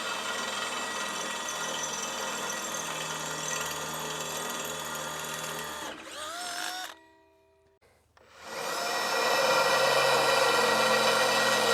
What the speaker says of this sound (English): I'll switch to a 5/16 drill bit and get the correct size hole punched through this grill guard